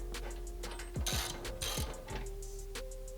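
Rapid clicking ratchet strokes from a hand tool driving bolts into Dinan suspension links on a BMW F90 M5, several short bursts close up with a steady background hum and no talking.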